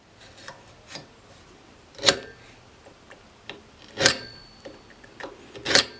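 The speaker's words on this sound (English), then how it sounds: "This scratch awl will do a really good job marking in the metal if I stay in one spot." A scratch awl scribes a line into metal angle iron, making a few short, sharp scraping strokes spaced a second or two apart over quiet background.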